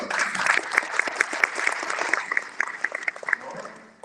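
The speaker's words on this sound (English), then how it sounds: "Give a round of applause." A crowd applauding, dense clapping that swells and then thins out, fairly close and steady over a few seconds.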